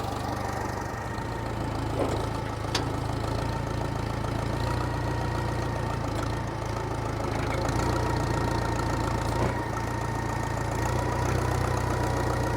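A 50-year-old backhoe engine idles steadily after a cold start, a continuous rough low rumble with a faint mechanical knock that holds an even level throughout, with no voices.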